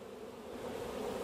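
Honeybees buzz around a frame lifted from an open hive during an inspection, a brief, soft, steady hum heard alone and fairly close.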